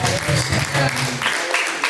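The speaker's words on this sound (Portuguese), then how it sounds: "Palmas, louva e agradecemos." A church congregation applauds during a worship service, a dense wash of clapping blended with voices and a low, sustained tone underneath.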